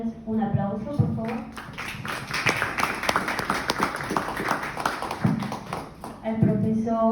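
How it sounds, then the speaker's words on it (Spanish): An audience at a literary award tribute claps and applauds for several seconds, a dense patter of hands, with a voice speaking briefly in Spanish at the start and again near the end. "denme un aplauso, por favor"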